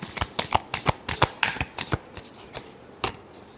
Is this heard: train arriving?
no